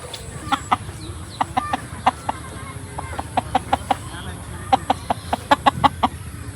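Chickens on a small farm clucking in short, scattered bursts, some close and some a little farther off, over a low background rumble; quail are kept nearby.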